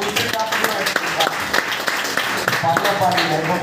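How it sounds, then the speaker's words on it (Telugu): A meeting audience applauds Santosh with a short burst of dense, close clapping that holds steady for a few seconds. "సంతోష్ సార్ కి క్లాప్ చేయాలి."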